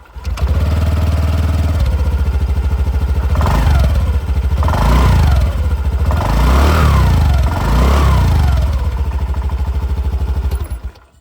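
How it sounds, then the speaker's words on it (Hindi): A loud Honda Dio 125 X-Edition scooter engine runs up close, its exhaust note rising and falling through several quick revs before settling back to idle. "अब मैं आप लोगों को यहाँ पर डीओ 125 की भी आवाज़ बता दूँ।"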